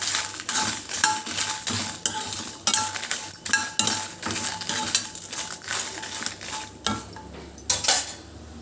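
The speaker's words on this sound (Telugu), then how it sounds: "మనం ఇదే ప్యాన్లో మనము ఎండుమిర్చిని కూడా బాగా ఫ్రై చేసుకుందాం." Dried red chillies being fried in a pan make repeated dry rattles, clinks and scrapes as they are stirred and tossed, close and fairly loud, with no voices.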